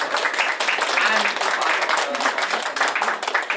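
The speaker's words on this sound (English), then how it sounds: "a big round of applause to everybody" Applause from a panel-discussion audience at a data visualization event, a dense, steady wash of many hands clapping at moderate volume throughout, with some voices mixed in.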